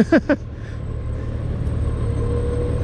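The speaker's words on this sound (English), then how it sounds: "A little bit of traffic here today." Road traffic on PA 662 near a roundabout in Oley, Pennsylvania: a steady low rumble of cars passing close by, with a brief higher tone at the start, then continuous engine and tyre noise.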